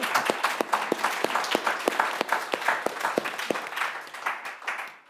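An audience at a history panel discussion claps, a loud, fairly sparse patter of individual hand claps close by that tapers off toward the end, with no talking.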